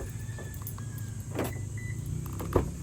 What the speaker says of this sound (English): So to unlock the vehicle, just press the button.